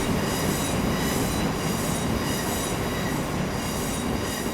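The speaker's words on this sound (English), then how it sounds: "we can hear the rails of the train squeaking while it's going through a very narrow curve" Train wheels squeal against the rails as a train rounds a very tight curve in the Transport Fever game, a steady, loud grinding rumble with a high metallic whine that runs throughout.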